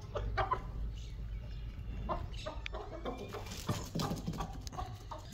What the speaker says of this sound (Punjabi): ਇੰਝ ਕਿਉਂ ਲੱਗ ਰਿਹਾ ਕਿ ਇਸ ਕੁੱਕੜੀ ਨੇ ਵੀ ਕੁੜਕ ਮਲ ਲਿਆ?